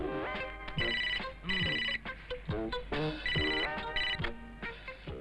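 A telephone rings in a repeating electronic pattern of bright warbling bursts, loud and close, with no voices over it, set in a Hindi comedy scene.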